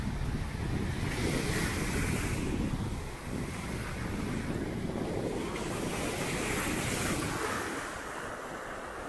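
Waves wash continuously onto a sandy Black Sea beach at Kefken, Turkey, with surges of surf rising and falling amid strong wind buffeting the microphone.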